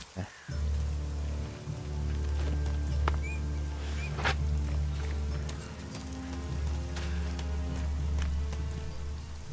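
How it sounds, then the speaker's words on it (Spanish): Steady rain pours down in the game ELEX, a dense even wash with scattered sharper drops and a low rumble underneath, continuous and fairly loud throughout with no talk. "ya está lloviendo, hombre, odio esta lluvia"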